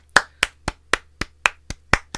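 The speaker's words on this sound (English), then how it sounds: "I just clapped myself." Nine sharp hand claps at a steady, even pace, close and loud, with no talking between them.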